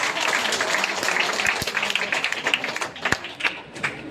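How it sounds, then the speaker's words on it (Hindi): An audience at a theatre workshop performance claps enthusiastically, a thick crowd applause with some louder, distinct nearby claps that grow more scattered toward the end. "इसके लिए एक बार जोरदार तालियां।"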